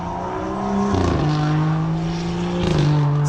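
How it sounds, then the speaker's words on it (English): Road traffic on a street in Williamsport, Pennsylvania, heard as a car engine passing close by with a shifting hum that rises and falls, loud and steady for a few seconds, with no talking. "excuse the traffic noise"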